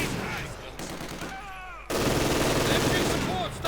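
An MG42 machine gun firing in the Company of Heroes 2 real-time strategy game: loud, rapid bursts of automatic fire mixed with battle noise, broken by a brief lull before a sustained stretch of gunfire.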